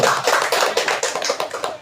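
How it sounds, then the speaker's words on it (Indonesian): Audience applause at an Indonesian school outreach session on positive discipline culture: a dense, steady patter of many hands clapping, fairly close and continuous, with no voices over it. "Tepuk tangan."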